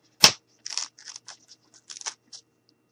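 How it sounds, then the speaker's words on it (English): Scissors snip through material while leg inserts for a standing gnome craft are cut, giving one sharp crunch followed by a run of short, close snips and small rustles at an uneven pace. "Now I'm going to take my scissors and I'm going to make the inserts for the legs."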